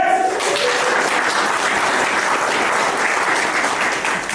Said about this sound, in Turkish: Hadi bir de şu an işte olsun alkışlar.